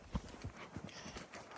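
Hooves clip-clop faintly on open desert ground as a young ranch horse is ridden out to check on cattle, a few soft, uneven thuds under outdoor background noise.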